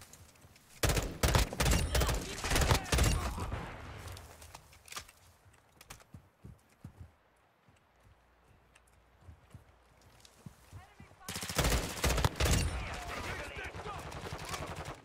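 Bursts of gunfire from a three-round-burst rifle in Call of Duty MW2, sharp cracks in quick clusters at the start and again near the end, separated by a quieter stretch of scattered sounds.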